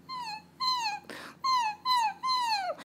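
A singer's voice imitates a sad, whimpering puppy as a whistle-register warm-up: five high, thin whines, each sliding slightly downward, with a short breathy rush between the second and third, close and alone.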